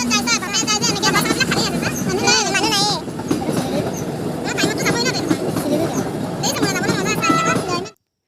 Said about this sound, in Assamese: এতিয়া ট্ৰেইন আহিব